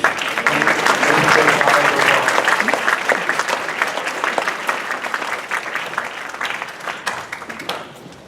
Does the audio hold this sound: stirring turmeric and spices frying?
no